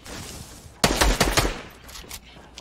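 Shotgun blasts ring out in Fortnite as a quick cluster of four or five loud bursts in the middle of the clip, over a busy, noisy game background.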